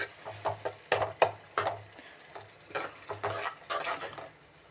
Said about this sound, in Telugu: టమాటాలు ఉల్లిపాయలు వేసి ఇది కూడా లైట్గా కొద్దిగా పచ్చి వాసన పోయిందాక వేయించుకుంటే సరిపోతుంది